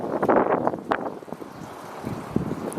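Gusty outdoor wind buffeting a handheld camera microphone, irregular low rumbling bursts that rise and fall over a few seconds, close and fairly loud, with no voices.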